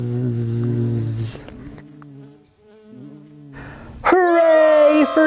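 A loud insect-like buzzing effect drones for over a second, then falls away before a second, higher buzz swells in near the end, set within a children's story reading.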